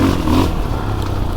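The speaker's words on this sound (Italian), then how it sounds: "il motore è fantastico, 500, ma che spinta ha ai medi" A Fantic Caballero 500 Rally motorcycle with a 500 cc engine rides off-road, its engine a loud, close, steady drone that dips slightly in pitch, with some scraping and clattering over rough ground.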